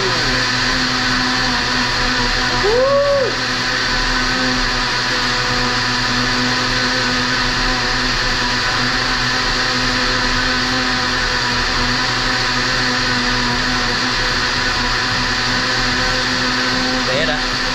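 Coca-Cola and Leite Ninho powdered milk being mixed, heard as a loud, unbroken motor whir that runs steadily from start to finish, with a brief faint voice-like sound near the beginning.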